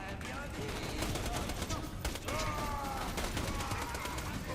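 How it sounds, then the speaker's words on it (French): Perion submachine gun fire in Borderlands 2, a continuous dense burst of rapid electric-damage shots that runs throughout with little pause. "C'est une mitraillette type Perion avec des assez bonnes stats qu'on peut tester."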